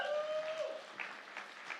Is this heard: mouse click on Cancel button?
no